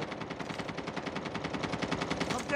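A PDW submachine gun in Call of Duty fires one long, fast, unbroken automatic burst, steady rapid rhythm, moderately loud and close, heard on its own.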